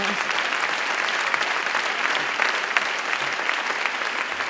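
A gala crowd applauds continuously, a dense, even patter of many hands clapping at once that sustains without pause from start to finish.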